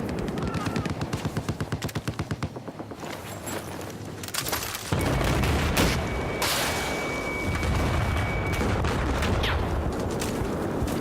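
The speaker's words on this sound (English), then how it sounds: "This bullet's just going right by my face." Battlefield 4 gunfire on the Golmud Railway map: a rapid automatic burst rattles first, then continuous heavy shooting, explosions and bullets whizzing past fill the mix loudly without pause.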